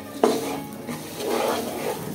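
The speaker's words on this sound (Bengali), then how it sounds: "শুধু ওই তেলগুলো একটু পুরা খুদের গায়ে গায়ে একটু লাগানোর জন্য এভাবে একটু নেড়ে নিচ্ছি" Rice grits being stirred in a little oil in a pan, a short burst of spoon-on-pan scraping over a low sizzle, close and moderately loud.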